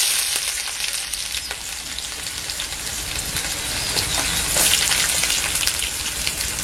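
Sliced onions and broken green chillies fry in hot oil in a pot for a Sunday chicken kulambu, giving a steady, close, dense sizzle that swells slightly partway through, with no voices.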